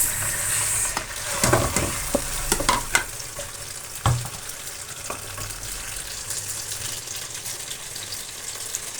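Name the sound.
onion frying in a pan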